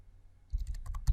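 Keys clacking on a computer keyboard while pip install is typed at a command line, a quick burst of close, crisp taps that starts after a quiet half second.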